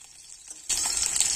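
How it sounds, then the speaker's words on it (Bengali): Bata fish frying in oil in a pan: a quiet hiss swells abruptly into a bright, loud sizzle that continues steadily. "উল্টে দিয়ে আর 1 পিঠ হালকা করে ভেজে নিতে হবে"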